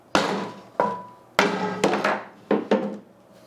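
Sharp metallic hammer strikes on a non-stick pan, about seven blows in uneven rhythm, each ringing briefly before the next hit.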